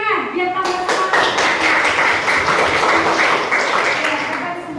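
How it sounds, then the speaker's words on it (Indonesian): Classroom of students clapping together on a teacher's call, a dense wash of hand claps sustained throughout, fairly close and loud, with voices mixed in. "Sekali lagi tepuk tangan biar tambah semangat."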